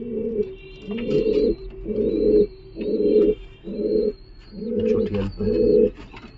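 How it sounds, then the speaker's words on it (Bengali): Repeated low coos of Giribaz pigeons in a steady rhythm, about seven calls close by, with faint higher chirps from other birds in the background. "চটিয়াল ঝাপড় পায়রা"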